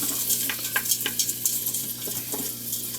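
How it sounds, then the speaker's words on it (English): Rehydrated chickpeas go into a sizzling Instant Pot while making vegan kichuri. Steady frying hiss is broken by several soft scraping and stirring knocks, with no talking. "In go the chickpeas."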